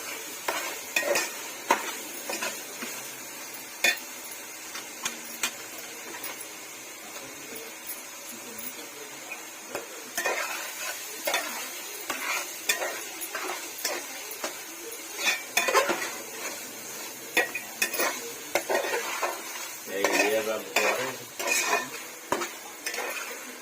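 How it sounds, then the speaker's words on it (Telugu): Food being stirred in a metal pan after rock salt goes in, with repeated clanks and scrapes of a spoon against the pan over a soft sizzle. The strokes come in irregular bursts, close and fairly loud, throughout. "కల్లుప్పు వేసిన తర్వాత ఇలా కలుపుతున్నానండి."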